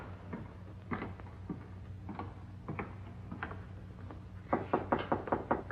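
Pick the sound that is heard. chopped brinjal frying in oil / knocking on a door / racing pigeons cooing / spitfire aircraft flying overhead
knocking on a door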